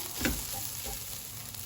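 Vegetables seasoned with salt and pepper sizzle softly in a frying pan, with a brief stirring scrape near the start; the sound is quiet and short.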